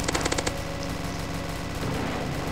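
Gunfire in the Roblox game Zombie Attack: a fast burst of automatic shots at the start, followed by dense, steady game noise, with no talking.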